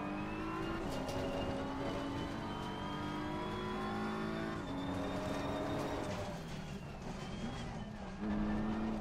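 A race car engine in a racing video game drones steadily at high revs throughout, its pitch sliding and shifting as the car accelerates and changes gear, loud and continuous with no voices.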